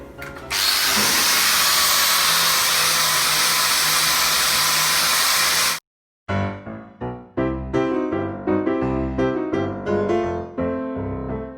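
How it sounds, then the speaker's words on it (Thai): A welded titanium exhaust header for a 125 motorcycle being polished with Scotch-Brite pads on a power tool, with a loud, steady whirring grind for several seconds, then a brief stop and choppy, uneven bursts as the pad works the bend. "ใช้สกอตไบค์ขัดนะครับ"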